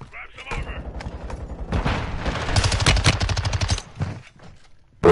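Gunfire in a shooter video game: a burst of rapid automatic shots with a few scattered single cracks, mid-distance and fairly loud, mixed with faint mechanical clicks and voices talking.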